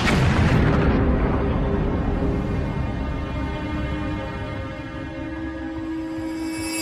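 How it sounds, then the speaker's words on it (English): A house explosion that destroys a bedroom: one heavy, loud boom at the start, followed by a long, rumbling roar that slowly fades, with a ringing tail lingering at the end. "an explosion destroys Darnley's bedroom"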